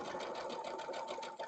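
A sewing machine stitches fabric with a quiet, rapid, evenly pulsing mechanical chatter, heard close but faint and alone.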